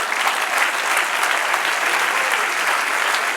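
A church congregation claps for the Lord in a steady, loud and even burst of applause that fills the room for the whole stretch without pause.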